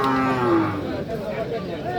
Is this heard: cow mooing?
yes